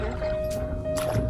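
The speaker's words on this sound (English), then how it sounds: "We decided to row in order to avoid getting the motor stuck in any weeds" Oars dipping and pulling through calm water as a small boat is rowed instead of motored, two soft splashing strokes close by with a steady tone humming underneath.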